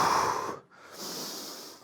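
Close, audible breathing during gentle cardio exercise for seniors: a long, airy inhale through the nose, a brief pause, then a steady exhale.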